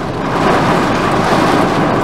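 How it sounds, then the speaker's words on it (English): Heavy rain pours and thunder rumbles over a camping tent at a campsite in Prescott, Arkansas, a loud, dense, unbroken roar with no voices. "I knew that it was gonna rain a little bit."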